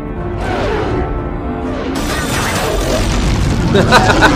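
Loud gunfire sound effects crash in, first boomy and then a dense burst of shots building toward the end, over music from a comedic football animation.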